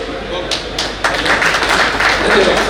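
Audience applause at a gathering: a few scattered claps at first, then dense, steady clapping swells and holds, with a voice talking over it.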